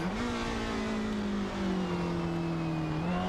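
Historic 1960s GT race car in Assetto Corsa at Goodwood, engine held under hard acceleration: a steady, loud, close droning exhaust note with a slight dip and recovery in pitch, no talking.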